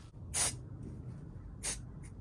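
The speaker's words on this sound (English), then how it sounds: "That's how you spray brake cleaner all over yourself." Two short hissing bursts of aerosol brake cleaner, close and sharp, sprayed during a differential fluid change, separated by a pause, followed by a faint brief puff over quiet background.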